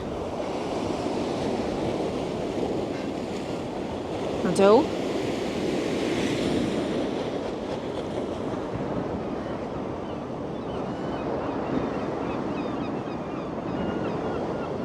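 Waves crash and surge over a sea wall in Blackpool under a steady rush of westerly wind, with a brief voice speaking once partway through.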